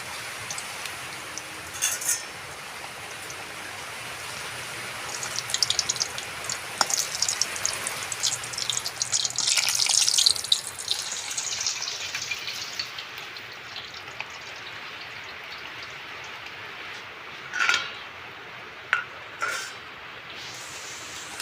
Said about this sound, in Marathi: आता हा वडा आपण तेलामध्ये टाकून घेऊया आपलं तेल गरम झालं आहे चांगलं